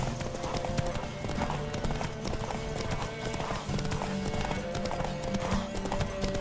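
A horse gallops in The Witcher 3: Wild Hunt, its hooves pounding in a fast, steady clip-clop rhythm, loud and continuous, over a busy game soundscape.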